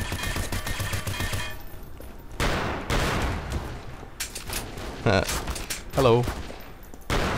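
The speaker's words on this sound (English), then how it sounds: "So I can switch back to a little machine gun here." Machine gun fire in the video game EYE: Divine Cybermancy, coming in several loud, rapid bursts separated by short pauses, with a brief voice heard once amid the shooting.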